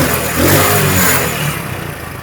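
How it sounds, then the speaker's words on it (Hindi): A car engine with a noisy timing chain runs loud and close, its rough mechanical clatter rising briefly as if revved, then settling, no one talking. "ज़्यादा आवाज़ जो है टाइमिंग चैन की ही शो हो रही है"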